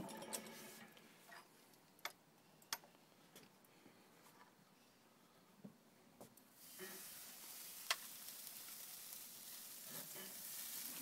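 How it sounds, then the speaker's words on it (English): Steaks searing on a Big Green Egg grill at about 700 degrees give a soft, quiet sizzle punctuated by scattered ticks and pops, then a louder, steadier hiss of frying fat. "we're going to put steaks on to sear them"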